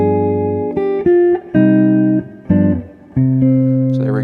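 Guitar artificial harp harmonics run through a C harmonic minor scale, with a few bright, bell-like chiming notes that ring and overlap. Each pluck is close and clear, separated by short gaps.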